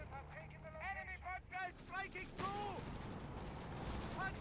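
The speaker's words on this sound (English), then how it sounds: "There's the Obice barrage." An Obice artillery barrage rumbles in Company of Heroes 3. Gunfire and a heavy booming onset sit faintly beneath steady talking.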